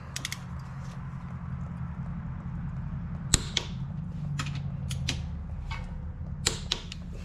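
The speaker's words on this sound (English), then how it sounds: "Let me set up a torque wrench and we'll torque those." Ratcheting clicks of a torque wrench tightening ARP bolts to 55 foot-pounds on a 355 small-block Chevy engine, a few sharp isolated clicks over a steady low hum in a quiet shop.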